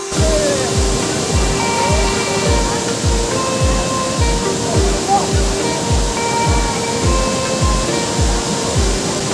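A steady, loud roar of Shallang waterfall in Northeast India during rain fills the whole stretch, a constant rushing wash with no pauses and no voices.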